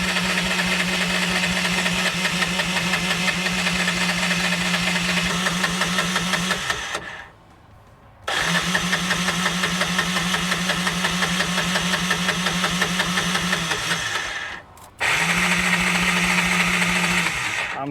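A small single-cylinder engine on a homemade mini 4x4, fed fuel straight into the carb, runs loud and steady with a buzzing knock, cuts out for about a second twice, then catches again each time.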